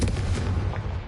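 A fiery Confringo spell explosion in Hogwarts Legacy, a loud, dense, low booming blast that fills the whole moment with rumbling crackle and no voice over it.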